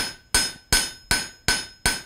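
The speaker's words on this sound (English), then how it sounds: "backside of the hammer" Six evenly spaced, ringing hammer blows strike a hot forged steel tip, the backside of the hammer flattening the foot of a doorstop; sharp metallic clangs about every 0.4 seconds, close and loud, with no talk.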